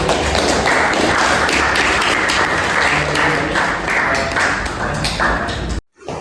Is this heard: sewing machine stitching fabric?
no